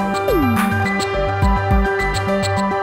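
Electronic song built with a Moog Mother 32 synthesizer and a Maschine MK3: a pulsing bass arpeggio under a gliding synth lead and crisp hi-hat ticks, full and loud with no voices.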